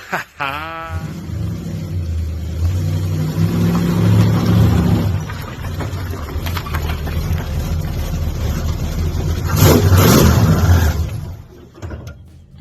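A 1957 Plymouth 4-door Custom Suburban station wagon engine runs and revs, a loud close rumble that rises and swells midway with a mechanical whir, then drops away at the end.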